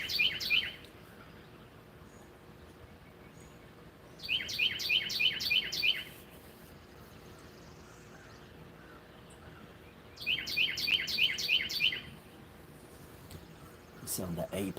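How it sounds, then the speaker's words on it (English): A small bird sings loudly at dawn outdoors, delivering three bursts of rapid, high, repeated chirping notes several seconds apart over quiet background hiss. "That little bird can put out some serious volume."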